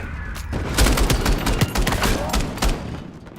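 Rapid volleys of mech weapon fire from the video game MechWarrior 4 during a multiplayer match, loud and dense with overlapping bursts and impacts for several seconds, no voices.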